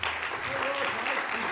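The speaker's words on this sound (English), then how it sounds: "Give them a big round of applause." A conference audience at an iTnews State of Security event applauds in sustained, dense clapping that fills the room, with voices mixed faintly into the ovation.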